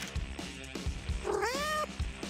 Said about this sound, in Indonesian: Oh, kucing pintar.